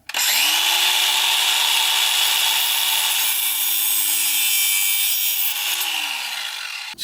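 A power tool cuts through a brake cable on an old project truck, one loud, continuous high whine with a grinding edge lasting about six seconds, close up and alone.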